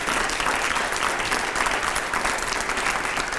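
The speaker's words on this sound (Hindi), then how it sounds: "जोरदार तालियां हो पहले अगले सवाल से पहले" A studio audience on a televised panel show breaks into loud, sustained applause, a dense, continuous roar of many hands clapping close and full throughout without a pause.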